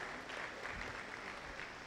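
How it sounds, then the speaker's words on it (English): Audience members at an AfriLabs gathering applaud speakers and panelists leaving the stage, a brief, faint wash of steady clapping in a large hall. "Another round of applause as these speakers and panelists come down"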